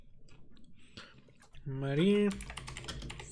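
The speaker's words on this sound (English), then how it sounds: "I'm typing" Computer keyboard keys click in quick light bursts, faint and close, with a person talking over them.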